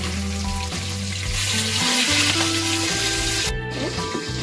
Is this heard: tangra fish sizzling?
yes